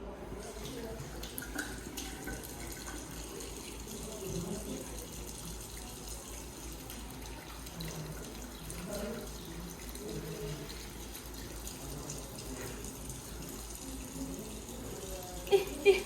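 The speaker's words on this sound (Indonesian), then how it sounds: "kita cuci tangan terlebih dahulu menggunakan 6 langkah" Running tap water hisses steadily and fairly loud while hands are washed under it in a laboratory sink before a helminth examination, with a couple of small splashes near the end.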